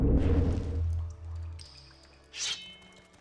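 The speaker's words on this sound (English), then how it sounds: "Ambient sound effects. Like water dripping from the cave." Water drips inside a cave in the video game Morrowind: a low ambient rumble fades out, followed by a few faint, scattered drips and one brighter, splashier drip, with no voices.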